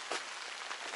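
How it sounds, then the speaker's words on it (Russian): Rain falling outside a hut in the taiga, a soft, steady patter of drops hitting surfaces, faint and even throughout the brief stretch with no voices. "Дождина идет."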